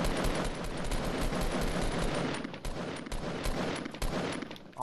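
Fast bursts of automatic gunfire aimed at a tree in the Fortnite video game, a dense loud rattle of rapid shots with short gaps between bursts.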